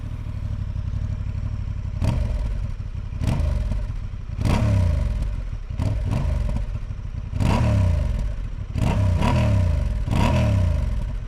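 A 2025 Honda Hornet CB750 motorcycle on its stock exhaust, running close by with a steady idle broken by repeated sharp revs that rise and fall back, and no talking.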